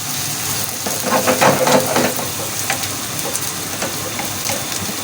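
Chopped onions frying in a pan while being stirred and turning light brown, a steady close sizzle with scraping and clatter swelling in the middle, no voices.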